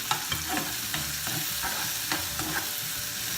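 Tomatoes with garlic powder and salt cooking in a pan for a black chickpea soup, a steady close sizzle with repeated stirring scrapes in an uneven rhythm, no talking.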